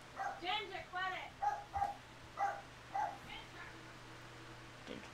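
A small pug-like dog named Ginger barks and yips in a quick series of sharp, fairly close barks, then trails off into a few quieter whimpering yaps.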